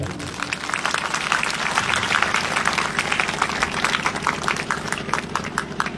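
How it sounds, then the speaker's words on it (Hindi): A crowd applauds at a Bhagavat Katha gathering, with dense, sustained clapping from many hands filling the space at a steady level. "ताली बजेगी तब"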